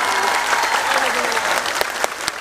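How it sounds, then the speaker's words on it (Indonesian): An audience at an Islamic religious lecture gathering in Taiwan claps in a sustained burst of applause, with a few sharper claps standing out toward the end. "Tepuk tangan untuk beliau."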